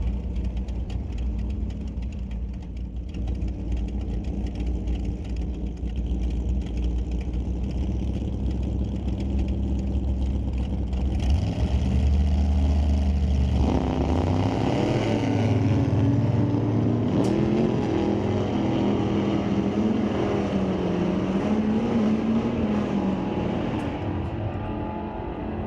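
A 454-powered hot rod and a 454-powered 1967 Chevy II line up at an old-time drag strip, loud rumbling engines idling and revving before both launch hard with roaring acceleration that holds strong for several seconds.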